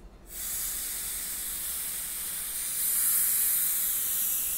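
Spray paint hisses steadily from a can onto a plastic Jeep dashboard, a close continuous spritz that swells slightly louder toward the end, with no talking.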